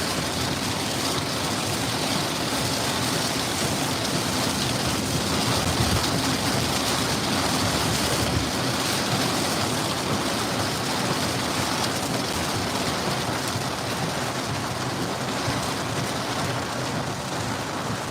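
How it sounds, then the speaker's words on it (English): Heavy rain drums steadily on the roof of a car, a dense, loud, unbroken roar of drops that holds for the whole stretch with no voices. "So hopefully this rain isn't that loud"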